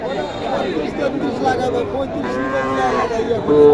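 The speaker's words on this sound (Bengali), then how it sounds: "এই গরুগুলা" Cattle low and moo among the crowd at the Mahadevpur cattle market in Naogaon, where heifer calves are sold, with a drawn-out moo near the end rising over steady voices and market chatter.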